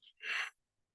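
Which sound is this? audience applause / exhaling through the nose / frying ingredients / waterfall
exhaling through the nose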